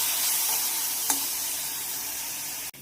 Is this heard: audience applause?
no